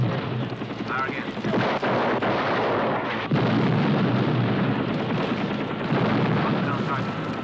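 Rocket launches and artillery fire from a U.S. Army battle in a western town in the 1981 film Superman II, a dense, continuous roar of blasts and rumble with shouted commands under it.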